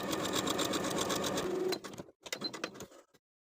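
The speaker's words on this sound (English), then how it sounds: "we're going to sew basting stitches along the top edge from outer notch to outer notch" Sewing machine running basting stitches along the top edge of a sleeve for a vintage 1960s dress, a quick steady needle chatter close by, then slowing to a few separate stitch bursts before stopping.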